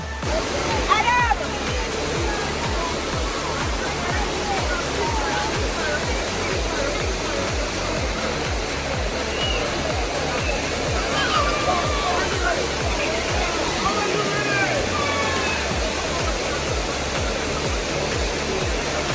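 A constant, heavy rush of falling water at Dunn's River Falls, Jamaica, fills the scene, with people talking faintly beneath the roar.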